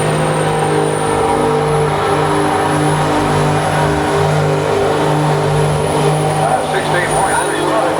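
A BTRA race truck does a burnout at a truck racing event, its engine droning loud and sustained with a steady high whine, while an announcer's voice runs over the top.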